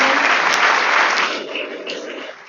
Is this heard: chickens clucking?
no